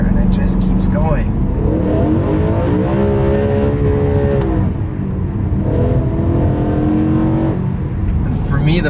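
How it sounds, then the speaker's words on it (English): A BMW E9X M3 with a naturally aspirated high-revving V8 revs and pulls hard, its engine note climbing and falling in pitch through sustained acceleration, loud and close, with some speech mixed in. "especially with it being a naturally aspirated high revving V8, it just wants to keep revving"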